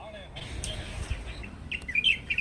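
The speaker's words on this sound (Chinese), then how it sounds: "鸟的叫声真好听" Small birds chirping and tweeting in a garden of young ginkgo trees, a few high calls scattered over low background noise and faint voices.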